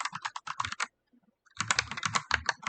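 Typing on a computer keyboard while working in the Vim editor, with two quick bursts of close keystrokes separated by a short pause, and no voices.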